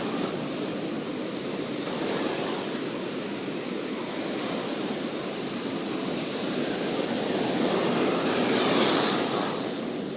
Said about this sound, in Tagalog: Sabi, lalaki ng mga alon guys.